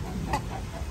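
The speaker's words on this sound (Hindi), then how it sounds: "ये मेरा असील मुर्गा है," An Aseel rooster gives a few short, soft clucks at close range against a quiet outdoor background, with one brief, sharper call standing out in the middle.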